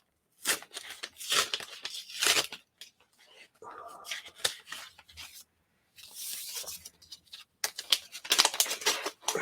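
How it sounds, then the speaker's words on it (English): Packaging of a new Kindle Scribe is unwrapped by hand, intermittent crinkling, tearing and rustling bursts of paper and plastic, close and moderately quiet, with pauses between handling. "So let's go ahead and unwrap this device."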